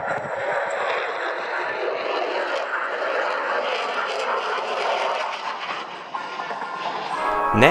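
SoloTürk, the Turkish Air Force F-16 solo display jet, flies at the Royal International Air Tattoo with a loud, sustained broadband jet roar that holds steady throughout, swelling slightly near the end.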